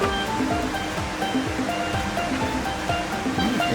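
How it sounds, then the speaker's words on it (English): Inside a CabKing lapidary saw, water sprays steadily against the splash guards and shield. It makes a loud, continuous rushing hiss throughout, with no talk. "Helps return the water to the trays as it sprays."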